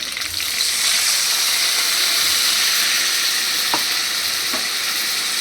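Water poured into a hot pan of sour raw-mango fish curry with bata fish sets off a loud, steady hiss and sizzle that holds throughout, with a couple of faint clinks partway through.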